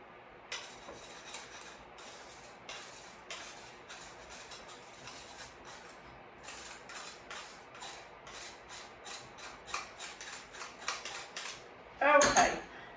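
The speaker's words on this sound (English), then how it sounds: "Just push it with the back of your spoon against the sieve" Spoon pressing a cocoa mixture through a metal sieve for keto chocolate butter cups, making soft, quiet scraping and tapping strokes in an irregular rhythm, with a louder metallic clatter near the end.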